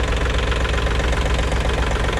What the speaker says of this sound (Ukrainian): Давайте заведемо трактор і послухаємо, як він працює.